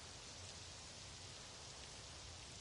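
Steady broadband hiss of rain falling on a baseball field in the video game MLB The Show 26, soft and even throughout with no voices.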